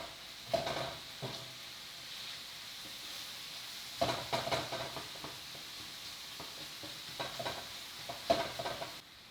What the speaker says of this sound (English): we can give the chorizo a flip and use a spatula just to continue breaking it up